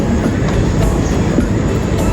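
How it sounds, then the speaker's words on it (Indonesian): The Sawunggalih Utama train pulls into Cirebon Kejaksaan station with a loud, close, continuous rail rumble and faint wheel clatter. "Awal 5 menit kedatangan kereta api Sawung Gali Utama di stasiun Kejaksaan Cirebon"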